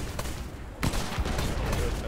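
Cannon fire from ships in a pirate video game, Blazing Sails, with a sharp booming blast partway through and a few more thuds after it, over steady background game noise.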